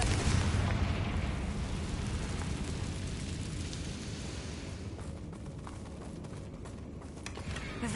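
Confringo blasting spell explosion in the Hogwarts Legacy video game, a broad rumbling burst that rolls on as a sustained, crackling roar and slowly fades, fairly quiet overall.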